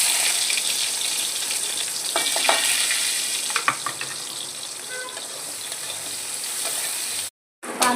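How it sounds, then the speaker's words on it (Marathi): Cumin seeds and onion frying in a hot pan give a continuous, loud, close hiss with a few faint clinks, then cut out briefly near the end. "जिरं टाकल्याच्या नंतर न लगेच कांदा टाकते"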